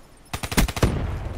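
Gunshots in the video game Call of Duty Black Ops 3, a quick burst of about six close, punchy shots in rapid rhythm, followed by a brief echoing tail.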